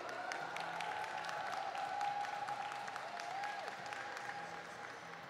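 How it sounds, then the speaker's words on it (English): A roller derby crowd at a Bear City Roller Derby bout applauds steadily, a broad wash of clapping heard from a distance, with faint voices and a thin whistle-like tone running underneath. "Let's give a big cheer for Bear City Roller Derby."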